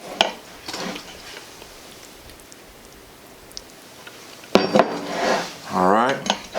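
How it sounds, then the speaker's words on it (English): A spoon stirs cooked beans and rice in an Instant Pot, with a few metallic clanks and scrapes against the inner pot, a quieter stretch in between, then a voice talking near the end. "All right, so I'm gonna stir this up"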